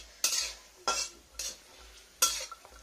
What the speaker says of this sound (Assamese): ইয়াত কাজু কিচমিচ অলপমান ভাজি লওঁ ঘিউ দি